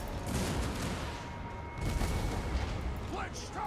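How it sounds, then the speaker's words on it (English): Flame cannons strike castle walls during a siege battle in Total War: Warhammer II, a dense, continuous roar of booming artillery and battle noise that stays loud throughout, with voices audible in the mix. "Oh, the flame cannons are hitting the walls."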